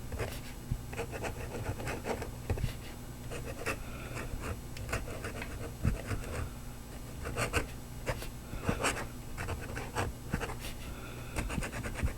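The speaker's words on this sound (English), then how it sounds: "putting down some great nutmeg ink on paper" A Leonardo MZG Mosaico Mango fountain pen with an elastic nib scratches nutmeg ink across paper in a close, quiet series of short strokes.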